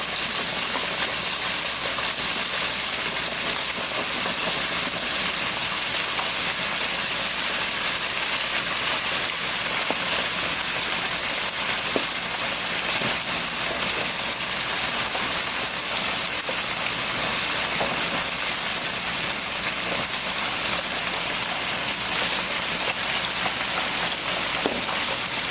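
Chicken frying in hot grease for Southern-style fried chicken, a dense, steady hiss and crackle of bubbling oil heard close and continuous, without voices.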